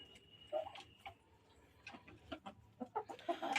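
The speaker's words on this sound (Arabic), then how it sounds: "بصوا الفراخ ما شاء الله اللهم بارك." Young free-range chickens cluck softly in a coop, with a scatter of short, faint calls spaced irregularly and growing more frequent toward the end.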